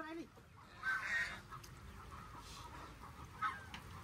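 Ducks honking and calling on a farm as they are caught, with a couple of short squawks standing out over a steady noisy background, fairly faint, while people talk nearby.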